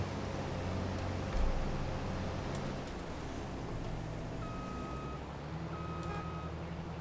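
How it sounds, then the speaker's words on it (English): A vehicle horn in Farming Simulator 22 gives two steady, car-like honks in the second half, each about a second long, over a continuous engine rumble. "what kind of horn does this thing have? Sounds like a car almost."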